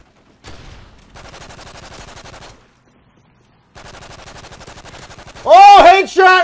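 Akimbo FMG9 submachine guns in Modern Warfare 3 fire two long, rapid automatic bursts separated by a short pause, followed by a loud voice exclaiming at the end.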